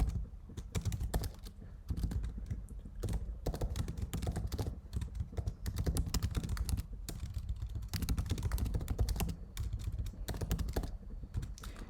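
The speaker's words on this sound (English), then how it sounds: "Let's type the name of the professor." Names being typed on a computer keyboard, a steady run of close, dense key clicks with short pauses, alone without talk.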